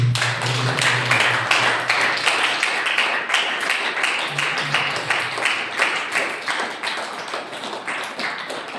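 Church congregation at a Sunday service clapping hands together, a dense, steady rhythmic patter of many hands close by, with a faint voice under it early on.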